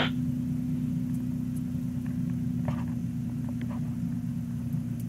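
An RAF 2000 gyroplane engine idles with a steady, droning low hum, close and continuous, with a few faint clicks on top and no talking.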